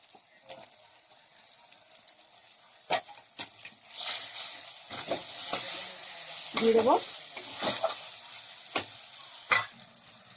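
Chopped tomatoes frying with spices in a pan, giving a steady soft sizzle broken by scraping stirs and clatters, with a brief voice partway through.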